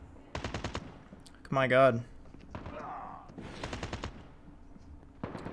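Man O War assault rifle bursts in Call of Duty Mobile, several rapid clusters of gunfire spaced a second or so apart, moderately close, with someone talking between and over the shots.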